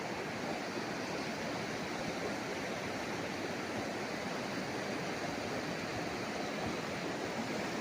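Steady, even rushing of a river flowing beside a farm in Majayjay, Laguna, a continuous, fairly soft hiss with no pauses or voices.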